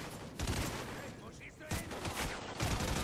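Rapid bursts of gunfire from the video game Call of Duty Ghosts crackle loudly and repeatedly throughout, with a player talking over the shooting.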